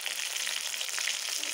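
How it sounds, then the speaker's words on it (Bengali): Stuffed pointed gourd (potol) fries in hot oil in a home kitchen, a steady close sizzle and crackle that carries on evenly for just over a second. "আর এখানে এই যে দেখো পটলের পুরগুলো ভাজছি।"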